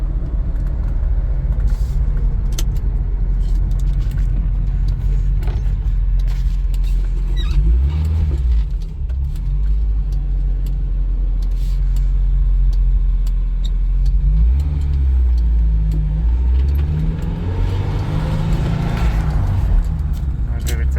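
A Porsche 924 Turbo engine drones loud and steady from inside the car while driving, with the low rumble swelling and easing as the gas is applied in third gear, and someone talking over it at times.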